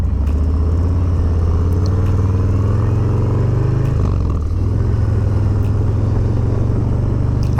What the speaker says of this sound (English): with this exhaust, it sounds such more deep